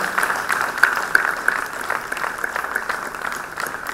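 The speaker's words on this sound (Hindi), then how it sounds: "आप सभी जोरदार तालियों से इस क्रम में जुड़े।" Audience applause welcoming a revered guest at a national seminar on ancient and spiritual sciences, a steady wash of clapping that holds at moderate level through the whole stretch, with no voices rising above it.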